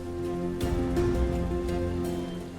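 Steady rain falls in a continuous wash, loud and close, with a low hum running underneath and a few soft thumps.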